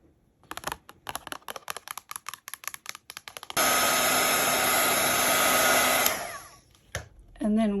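Clicking and tapping give way to a loud, steady whooshing blow from a craft heat tool setting embossing powder, running a few seconds before cutting off, with a brief burst after.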